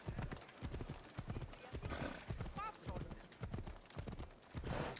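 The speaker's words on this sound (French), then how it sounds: "Grimpe sur ton cheval." Rhythmic hoofbeats of a horse galloping in Assassin's Creed Odyssey, steady clip-clop with a brief whinny midway, heard alongside game sounds.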